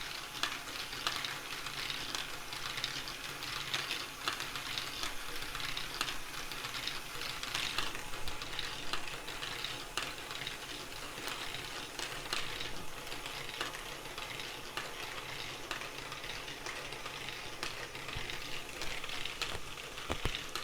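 Great ball contraption lifter mechanism raising batches of small balls, giving a continuous dense clatter of balls rattling and clicking against plastic parts with a steady mechanical ratcheting underneath.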